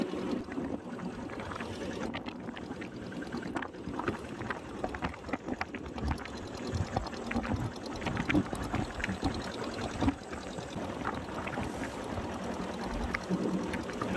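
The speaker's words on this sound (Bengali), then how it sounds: "তো নৌকা নিয়ে বেরিয়ে পড়লাম ওই পারে যাওয়ার জন্য।" A boat crosses a river through big waves, with water sloshing and slapping against the hull in a rough, uneven wash that goes on steadily without talk.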